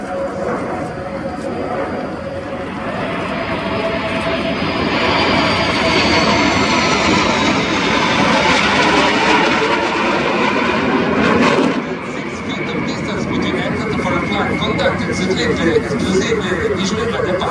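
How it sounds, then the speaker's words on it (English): MB-339 jets of the Frecce Tricolori display team at RIAT 2025, a loud, sustained roar that swells and fades as the aircraft pass, under continuous public-address commentary and crowd noise. "take a picture of our Mike Charlie 39 tricolor belly during this low-speed stutter turn with aero brake expanded"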